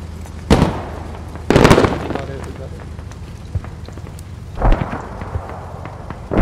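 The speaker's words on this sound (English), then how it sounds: "I'm gonna blow up this BMP." Explosions in the video game Squad as a BMP vehicle is blown up: three sharp, booming blasts spread across a few seconds, loud against a steady rumble of background battle noise.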